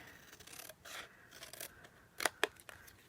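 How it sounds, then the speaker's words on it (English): Scissors snipping small pieces away from card stock during card making, quiet close blade rasps and a couple of sharper crisp snips near the end, with no talk. "I'll grab my scissors. And we're going to cut some little bit away."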